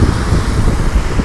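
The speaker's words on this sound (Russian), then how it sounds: "Дует ветер." Wind blowing hard against a microphone on a city street in Norilsk, a steady low roar and rumble with gusty buffeting and faint traffic beneath.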